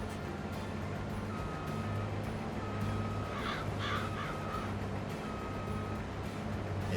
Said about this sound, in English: them crows are still a pain in the neck